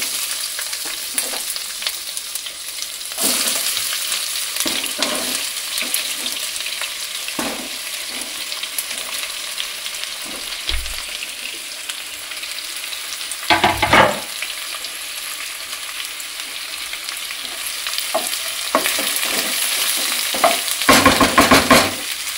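Onions fry in oil in a pan for a home-made chicken curry, giving a steady close sizzle with repeated scraping and stirring strokes of a spoon throughout; no one speaks.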